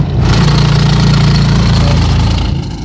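An engine idles steadily at close range near a motor wash by a university in Eastern Samar, a loud, even low throb that runs unbroken before easing off at the end.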